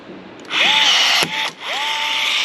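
Pneumatic rivet gun setting a rivet, a loud steady hiss of air running for about a second, a sharp snap, then a second sustained burst of air.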